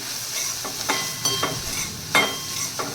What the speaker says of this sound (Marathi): आता आपण हे छान मिक्स करून घेऊया